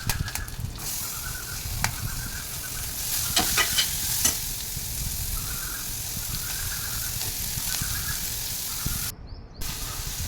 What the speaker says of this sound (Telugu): ఫస్ట్ అల్లం కొంచెం వేగనిద్దామండి. తిరగమాతలో అల్లం వేగనిస్తే బాగుంటుంది.